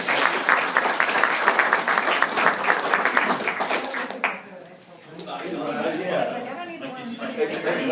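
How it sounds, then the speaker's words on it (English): An audience claps and applauds at an insurance training session, a dense burst of handclaps for about four seconds that then fades into chatter and murmuring voices. "give these guys a round of applause."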